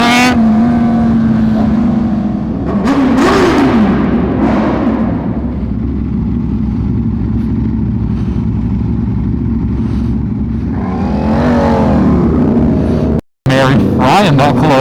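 A car's engine revs hard through a slipping clutch on a street drive away from a Cars & Coffee meet, the note surging and sagging close by with people talking over it.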